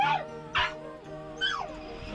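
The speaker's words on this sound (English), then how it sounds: "Max drives me nuts with the barking." Max the dog gives three separate yelping barks with whiny, rising and falling tails, close and fairly loud, spaced evenly over a couple of seconds.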